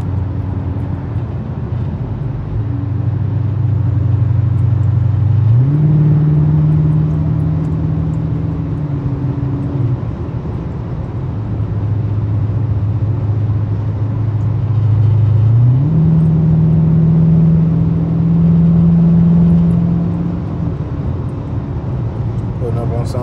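An RT car engine while driving, a loud, close, steady drone that steps up in pitch as it shifts and runs through gears, with a voice talking over it.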